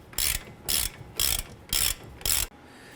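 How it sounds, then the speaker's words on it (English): A ratchet tightens the caliper bracket bolts on a 2012–2017 Toyota Camry during CV axle work, giving five quick bursts of ratcheting clicks at an even rhythm, close and clear with no talk. "I'm going to go ahead and torque down the caliper brackets to 79 foot-pounds"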